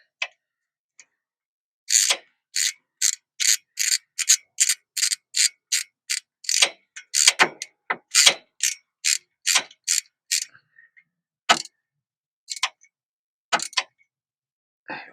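A ratchet wrench tightens header bolts on a 1968 Ford F100 with a 460 engine: close, loud bursts of rapid clicking in repeated strokes, some short and irregular, with brief pauses between them.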